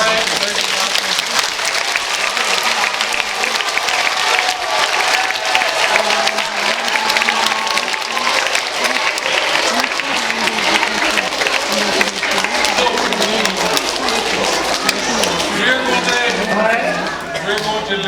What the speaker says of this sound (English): So we'll give Noel and Hospice Harry a big applause